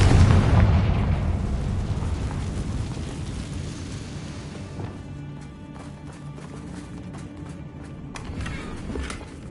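A Confringo explosion curse in the video game Hogwarts Legacy goes off with a loud, heavy boom that rolls into a long crackling decay, then a few scattered snaps and pops follow.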